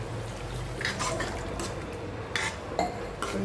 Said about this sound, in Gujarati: હવે આપણે ગેસની ફ્લેમ ફૂલ કરી દઈએ અને અંદર એડ કરીશું પાણી.